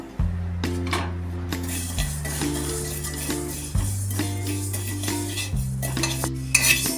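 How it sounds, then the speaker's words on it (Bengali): Fenugreek seeds fry in a pan for a mango pickle, a metal spatula stirring and scraping with repeated ringing clinks against the pan over a soft sizzle, close and fairly loud, without talk. "এখন দিয়ে দিচ্ছি মেথি মেথিটাও ভেজে নেবো"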